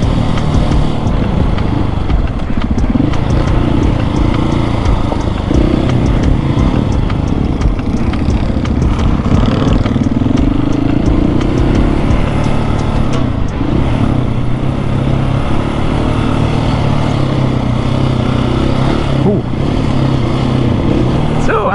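A supermoto motorcycle on Pirelli Scorpion Rally tires accelerates hard, its engine a loud, continuous drone that rises through the gears, heard close up with rushing wind and a rider's voice speaking over it.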